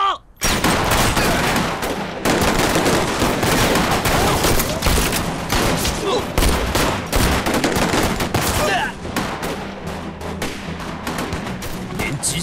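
Sustained gunfire from a Chinese anti-Japanese war film battle scene, dense volleys of rifle and machine-gun shots crackling loudly and continuously for the whole stretch, with no pause.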